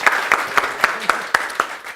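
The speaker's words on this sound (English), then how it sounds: "can you give them a round of applause for bravery?" Sparse, rhythmic audience clapping at a business analysis conference talk, roughly eight distinct claps in two seconds, moderately distant and fairly quiet.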